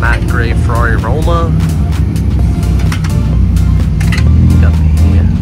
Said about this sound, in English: Gray Ferrari Roma.